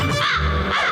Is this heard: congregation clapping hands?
no